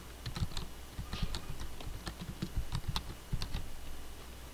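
Steady, busy typing on a computer keyboard, close and clear, with rapid uneven clacks and occasional heavier key hits running continuously for several seconds without any voices.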